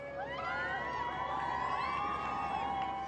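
A street crowd cheers and shouts for the King's convoy in Cardiff, with whoops and children's high voices, a steady, lively roar from nearby along narrow pavements.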